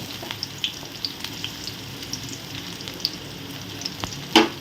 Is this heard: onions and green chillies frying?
yes